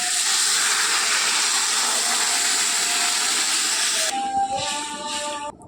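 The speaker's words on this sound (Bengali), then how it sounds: "এবার জল ঢেলে দেবো" Water poured into a hot pan of Bengali-style fig and potato curry sets off a loud, steady sizzling hiss that cuts off abruptly, followed by fainter bubbling and clatter.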